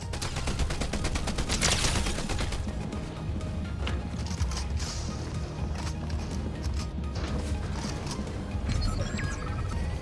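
Enemy gunfire in a battle royale shooter, rapid cracking shots and bursts of automatic fire rattling continuously and loudly across the desert, with dense repeated impacts throughout.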